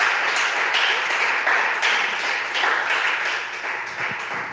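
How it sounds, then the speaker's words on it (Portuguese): Congregation applauding inside a church, a steady, dense wash of many hands clapping at once that holds for several seconds at even loudness, with no talk over it. "Aplauda o Senhor"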